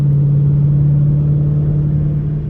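Dodge Challenger R/T engine holding a steady, loud droning note as it revs during an upshift, close and continuous with no talk.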